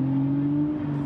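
A V12 BMW 760Li engine surges briefly with a deep, steady humming drone, heard close and alone for about a second.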